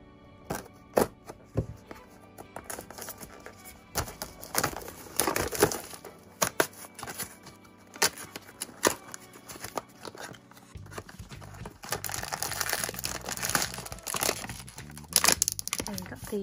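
Plastic blind-bag packaging for a Finding Unicorn Shinwoo baby ghost bear figure crinkles and tears open close up, in irregular bursts of rustling and crackling with a few sharper rips and quiet pauses between.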